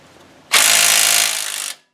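A DeWalt hammer drill works the axle nuts off a classic Mustang 8-inch rear end, giving one loud, steady, rattling burst of a little over a second that starts abruptly and cuts off cleanly.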